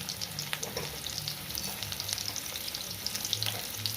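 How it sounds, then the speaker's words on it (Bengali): Potatoes seasoned with a little turmeric fry in a pan with a steady, close sizzle, broken by light crackles and occasional soft scraping as they are stirred, with no one talking. "আমি আলুগুলোকে ভালো করে ভেজে নেব।"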